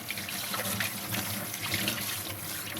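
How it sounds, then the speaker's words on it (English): Hands rinsed under a running kitchen tap while making spinach rice balls, a steady close hiss of flowing water with slight splashy variation and no talking. "let me rinse my hand, give me a second."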